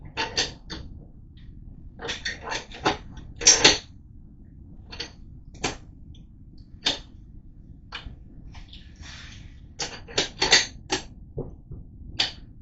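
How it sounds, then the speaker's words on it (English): A bolt is worked into the action of a rimfire precision rifle, producing a series of crisp metallic clicks, slides and creaks in short bursts, close up against a quiet background. "Let's go ahead and put the bolt in there."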